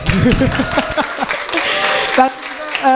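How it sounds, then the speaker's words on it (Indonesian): A studio audience at a radio talk show applauds briefly, with the clapping mixed under overlapping voices and music-like tones throughout the short stretch. "tepuk tangan dulu teman-teman."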